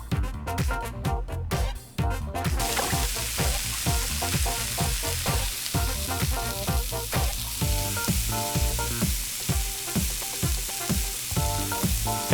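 Fries deep frying in the Chef Life restaurant simulator game, a continuous loud bubbling sizzle with rhythmic crackling pulses, preceded by a brief burst of clattering at the start.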